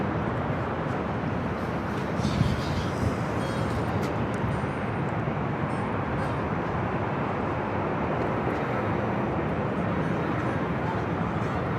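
A Southwest Airlines Boeing 737-700 at LAX gives off a loud, steady jet roar that holds evenly throughout, broad and rumbling, with faint talk underneath.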